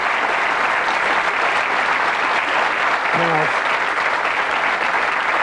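Studio audience applause on the 1987 British darts game show Bullseye, a dense, steady roar of clapping filling the whole stretch, with a brief word from the host cutting through near the end.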